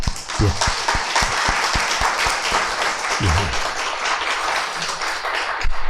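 A church congregation at a Korean Sunday service claps steadily for several seconds, a dense wash of applause with a few low thumps mixed in.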